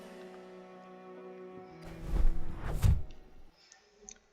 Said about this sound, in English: Before I land with a hard thud right into a hedge bush